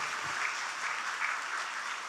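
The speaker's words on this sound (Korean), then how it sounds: "우리 담임 목사님도 다 박수 쳐주시고요." Church seminar attendees at a biblical counseling event keep clapping for each other, a continuous dense wash of many hands at moderate, even volume with no pauses and no speech.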